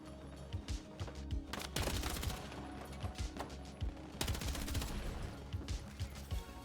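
Kord machine gun fire in Battlefield 6, sustained rapid bursts with dense overlapping shots and a couple of louder heavy volleys, with distant battle noise underneath.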